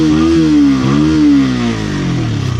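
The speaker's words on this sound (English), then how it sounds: "I just rev my engine like this. Yeah, and the exhaust is pretty loud." A CF Moto 150NK motorcycle engine revs through a loud exhaust, rising and dipping in pitch a couple of times before settling into a throbbing idle, close and strong.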